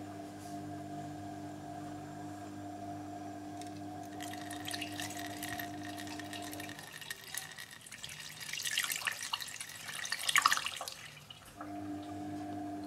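Liquid engine treatment trickles and splashes as it is poured through the filler cap into a fuel tank, a faint, soft pouring that swells midway, mixed with a low steady hum.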